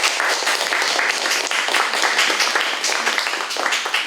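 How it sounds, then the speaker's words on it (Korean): An audience claps warmly to welcome an author at a Korean book talk event, a steady, full round of indoor applause that holds evenly throughout. "작가님께 큰 박수 부탁드립니다"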